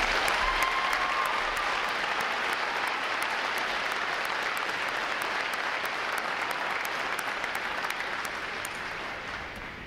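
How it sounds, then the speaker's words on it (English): A large crowd at a U.S. Navy recruit graduation ceremony claps steadily for award recipients, a broad sustained wash of applause heard at some distance and tapering slightly toward the end. "I'm going to have a round of applause for our award recipients."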